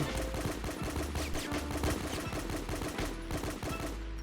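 Gunfire in a video game, where a Mosin rifle is in use, comes as a rapid, sharp volley of shots, loud and close, without talk.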